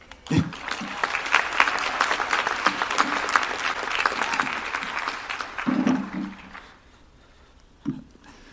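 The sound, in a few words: audience applause at commencement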